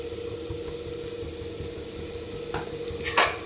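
Steady sizzle of a spinach and moong dal tempering frying in a pan as turmeric is stirred in, with a few light spoon scrapes near the end, close and continuous, no voices.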